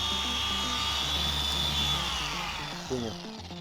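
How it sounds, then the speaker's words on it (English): Machine polisher doing paint correction on an Audi RS6 Avant, a close, steady whirring drone that slowly winds down toward the end, with talk faintly underneath. "Junior is correcting the imperfections in this Audi"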